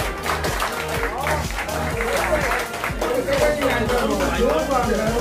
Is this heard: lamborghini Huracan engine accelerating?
no